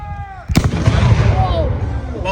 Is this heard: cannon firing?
yes